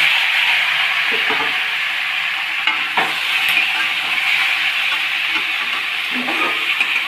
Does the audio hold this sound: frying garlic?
yes